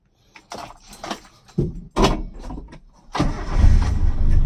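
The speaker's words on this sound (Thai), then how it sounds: "มาสตาร์ทเครื่องยนต์ดูกันดีกว่านะฮะ" A car engine cranks and fires up with a few short bursts, then settles into a loud, steady idle close by; a door thud is heard early on.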